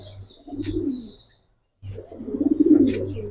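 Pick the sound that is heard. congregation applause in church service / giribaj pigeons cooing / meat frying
giribaj pigeons cooing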